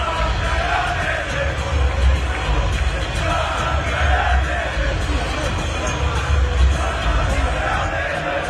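Stadium crowd roars and cheers continuously during Spain's World Cup final win, a dense, loud wash of voices and shouts with no pauses.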